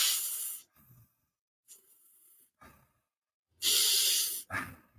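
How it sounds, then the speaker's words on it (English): A person doing a balanced breathing exercise takes audible breaths in and out, soft hissing airflow in several separate pulses with quiet gaps, the last exhalations louder and close. "that's where I'm going into balanced breathing"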